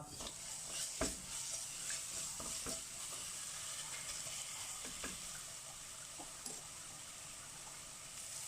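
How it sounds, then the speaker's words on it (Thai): Coriander root, garlic and pepper stir-fried in hot oil for a Thai sauce-baked pork dish, a steady close sizzle with occasional scrapes and knocks of the utensil against the pan. "แล้วก็เอา รากผักชีกระเทียมพริกไทยนะลงมาผัด"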